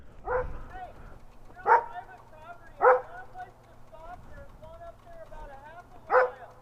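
A dog barks in four sharp, separate yips spread over several seconds, fairly close and loud against a quiet background with a faint steady hum.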